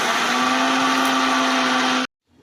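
A kitchen blender whirs loudly and steadily, grinding mustard seeds with garlic into a paste for about two seconds before cutting off abruptly into near silence.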